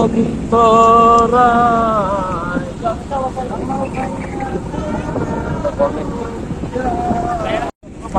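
A trawler boat cruises across Kaptai Lake in Rangamati under cloudy, rainy skies, its engine a steady drone mixed with wind buffeting the microphone, while voices and what sounds like singing carry over it throughout.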